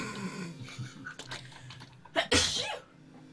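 A single sharp sneeze bursts out near the end, preceded by quieter breathy and rustling sounds in a multiplayer game session.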